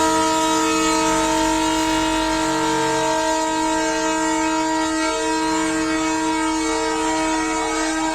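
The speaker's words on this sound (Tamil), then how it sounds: "தென்னக ரயில்வே அதிகாரிகள் ரயிலை இயக்கி வெற்றிகரமாக சோதனை ஓட்டம் செய்துள்ளனர்" A loud, sustained train horn blares with steady harmonic tones over the low rumble of a train crossing a rail bridge on a trial run, no voices.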